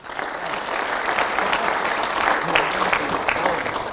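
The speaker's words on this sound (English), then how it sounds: "a much better round of applause." A convention audience at a Pan African youth gathering in Nairobi applauds steadily, a dense, close wash of many hands clapping that holds at an even level throughout.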